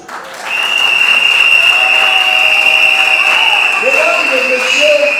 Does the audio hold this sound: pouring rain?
no